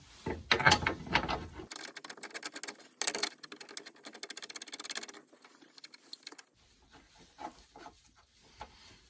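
A ratchet tightens the rear subframe bolts on a Porsche Cayman or Boxster 997, with quick, close runs of rapid clicking that stop and start, followed by quieter handling noise.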